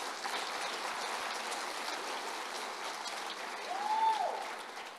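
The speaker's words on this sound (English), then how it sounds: "Let's give them a round of applause" An audience at a youth citizenship awards ceremony applauds in a steady, dense wash of clapping, moderately loud and swelling slightly near the end, with a brief voice above it.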